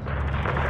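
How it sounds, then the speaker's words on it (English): An RPG fires in a Call of Duty MW3 battle near an enemy hangar base, a loud, close, roaring blast that fills the whole brief moment with dense rumbling noise. "RPG fire coming from east of the hangar."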